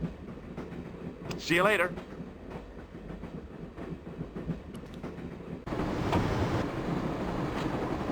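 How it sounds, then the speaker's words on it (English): A train rumbles steadily along the tracks in the Broken Sword adventure game, a low continuous roll that swells louder near the end, with a brief voice and a short whistle-like tone over it. "I'm going to climb on top of the train."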